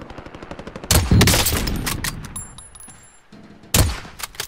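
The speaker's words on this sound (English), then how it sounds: "They're shooting at me." Gunfire in Call of Duty: Modern Warfare, with several loud bursts of automatic shots cracking at close range, a long burst near the start and another sharp volley at the end, separated by quieter stretches.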